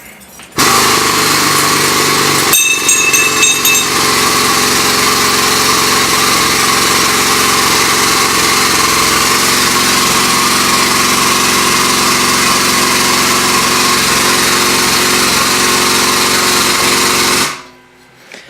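Steel tubing for a Kawasaki Teryx 4 UTV spare tire mount is bent on a powered bender, a loud continuous motor drone with a rattling clatter early on, running steadily close by for about seventeen seconds before stopping.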